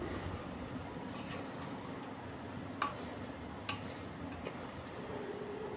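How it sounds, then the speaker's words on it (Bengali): Chickpeas being stirred with spices and salt in a pan: a faint, steady scraping hiss with low sizzling underneath, broken by a couple of sharp utensil clicks, with no voices. "চানাটা মশলার সাথে খুব ভালোভাবে একটু সময় নাড়াচাড়া করে নিচ্ছি।"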